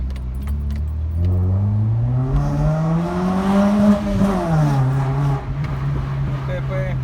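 A Mitsubishi car engine runs close by with its intake manifold audible, the revs climbing smoothly, holding, then dropping back to a steady idle as a loud, continuous drone.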